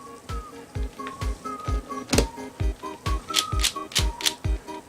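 Rapid plastic clicks and snaps of a Cyclone Boys GE4 4x4 puzzle cube being reassembled and turned, about a dozen sharp, close clacks in an uneven rhythm.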